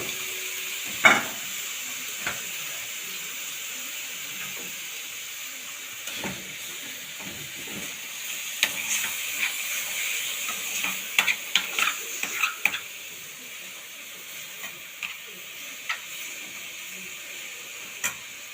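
Chicken pieces sizzle and fry in a pan for a shawarma crepe filling, with scattered stirring clatters and scrapes over a steady hiss.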